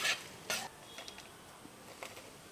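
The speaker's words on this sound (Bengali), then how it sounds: "এই রকম 20-30 সেকেন্ড লঙ্কাগুলো নাড়াচাড়া করে নিলেই ভাজা হয়ে যাবে।" Dried red chillies are stirred in a frying pan, with a few sharp scrapes and clinks of a utensil against metal, fairly quiet and alone.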